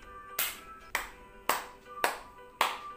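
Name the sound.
heart clap, clapping with hands forming a heart shape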